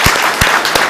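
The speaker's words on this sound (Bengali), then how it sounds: "আমরা সবাই মিলে হাবিবের জন্য জোরে হাততালি" Audience applause at a social business design lab event, a loud dense wash of many hands clapping, steady across the short burst with a few sharper individual claps standing out.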